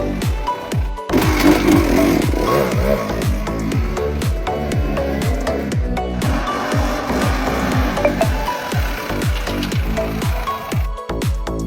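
A two-stroke Wuyang Honda CB150S motorcycle engine idling, a fast rattling putter with a steady uneven pulse close by, a few revs rising briefly, no talking.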